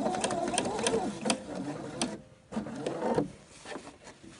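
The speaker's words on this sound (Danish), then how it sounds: "Og så syr jeg hernede igennem den første udstansning" Close, brisk stitching from a sewing machine runs through a placket on fabric in two bursts separated by a short pause, with clicks from handling the fabric.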